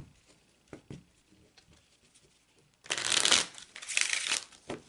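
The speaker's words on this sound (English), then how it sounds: "I'm going to cut the cards" A deck of playing cards is handled and cut during a card reading, starting with soft scattered taps and then giving way to a loud, dense riffling patter for the final two seconds, close and alone with no talk.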